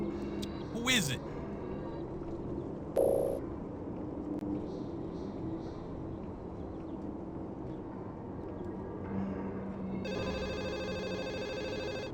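Telephone ringing in the 1996 Sierra On-Line PC adventure game Urban Runner, short electronic ring bursts near the start and again later, with game ambience and voices talking underneath.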